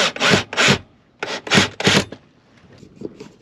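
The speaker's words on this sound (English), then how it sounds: "We're going to pre-drill the one that's going in this way" A drill bores a pilot hole for a screw in an RV wall while roller shades are being installed: four close, loud bursts of rasping, the last one tapering into quieter scraping.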